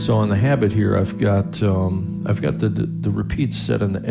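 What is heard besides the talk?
No everyday noise stands out behind the speech.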